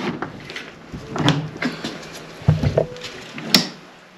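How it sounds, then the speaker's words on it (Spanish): Stiff wooden drawers are tugged open in an abandoned house, making a series of close knocks, scrapes and clunks at irregular intervals, with a few sharper bangs and no talk. "Los cajones."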